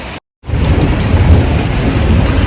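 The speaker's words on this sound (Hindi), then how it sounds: "तो ये बारिश आ गई।" Steady rain with rolling thunder during a wedding-preparation day at a house, loud and continuous after a brief moment of silence at the start.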